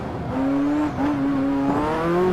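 A Ferrari F40 engine accelerates on the Transfagarasan Highway, a loud, steady, close engine note climbing in pitch with a brief dip at a gear change.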